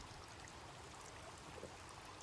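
A stream flows in the video game The Forest, a soft, steady rush of water that stays quiet and unbroken for a couple of seconds.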